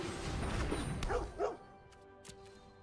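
A short, soft dog bark and yip from a card-battle game, MTG Arena, play out quietly over background music.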